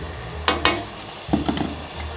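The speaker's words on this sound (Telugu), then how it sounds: "అల్లం వెల్లుల్లి పేస్ట్ వేసాము ఓకే ఇందులోనే కొద్దిగా పసుపు కారం గరం మసాలా" Ginger garlic paste with turmeric, chilli powder and garam masala fries in a pan for paneer pulao, a low sizzle broken by a few quick spoon scrapes.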